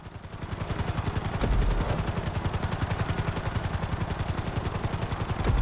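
Helicopter in Grand Theft Auto V during a flight school lesson, a steady rapid rotor chop with a loud, continuous engine drone held close throughout, no talk over it.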